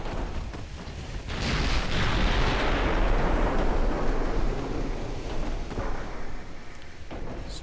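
A naval 5-inch gun salvo in the video game Ultimate Admiral Dreadnoughts: a heavy booming blast that rolls out into a long, loud rumbling decay over wind and sea noise.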